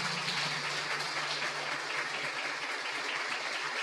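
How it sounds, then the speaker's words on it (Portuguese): An audience at a talk at a Spiritist group in São Paulo applauds to welcome the speaker, a dense continuous clapping over a low steady hum, fairly loud and uninterrupted, easing slightly toward the end. "Então vamos receber com muito carinho, uma salva de palmas"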